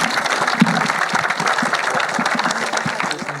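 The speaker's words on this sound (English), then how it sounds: "give a round of applause for everyone" A conference audience applauds the World Class Agency panel with steady, dense clapping that stays even and loud throughout.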